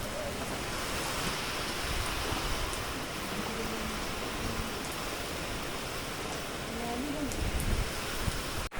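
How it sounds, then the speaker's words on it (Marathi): Dense, steady hiss of heavy rain pouring outside, loud and unbroken throughout, with a faint murmur underneath. "किती भारी पाऊस येतो बाहेर. असा जोर जोराने येतोय."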